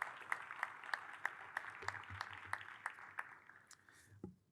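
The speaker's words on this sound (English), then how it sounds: "another big, enormous round of applause for really saving the hospital" A crowd gives a round of applause at the opening of Community Hospital Long Beach, a steady, fairly faint patter of clapping that carries for several seconds and then cuts off abruptly.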